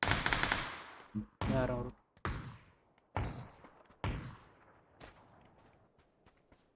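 Shotgun blasts in PUBG, about six sharp booming shots spaced roughly a second apart, each with a decaying tail, and someone speaks briefly over the first ones.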